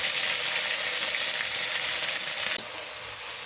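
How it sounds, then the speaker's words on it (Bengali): Dry chillies and black cumin tempering in hot oil left from frying pointed gourd, a steady loud sizzle and crackle throughout, slightly dropping and settling near the end. "আমি এখন ওই পটল ভাজা তেলেই এই ফোড়নটা আমি দিয়ে দেবো"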